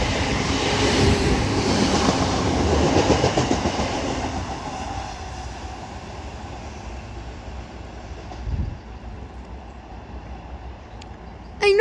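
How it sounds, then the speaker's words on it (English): A Northern Class 769 train runs through Kearsley station on a service to Manchester Oxford Road, its loud rumble and rail clatter close at first and then fading steadily as it moves away. "A Northern Class 769 passes through Kearsley now with the 1701 Northern service to Manchester Oxford Road from Southport."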